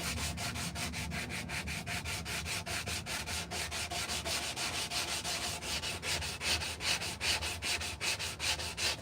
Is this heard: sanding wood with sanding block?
yes